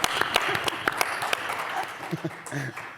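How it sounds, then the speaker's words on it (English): Brief audience applause at a lead-generation industry talk, a short burst of clapping that fades as a voice begins speaking. "Give him a round of applause."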